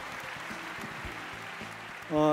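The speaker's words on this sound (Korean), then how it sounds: "큰 박수로 환영해 주시기 바랍니다" An audience applauds to welcome a speaker at a Rotary presentation. The clapping is steady and soft, a moderate-sized crowd somewhat distant, and a voice breaks in near the end.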